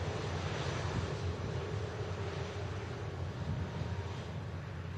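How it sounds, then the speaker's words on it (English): EasyJet airliner taxiing out for departure to Paris at Manchester Airport, a steady low jet engine rumble and whine held at a constant level throughout, with some wind noise on the microphone. "Next to go out is the EasyJet for Paris"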